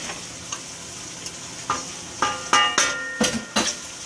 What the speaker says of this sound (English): We're just going to give this a little quick stir